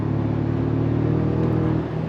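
A 2025 Toyota Tacoma TRD Pro with a 2.4-liter turbo engine and 8-speed gearbox accelerates from a stop, heard from inside as a loud, steady engine drone and whir that builds without pause, with no talking.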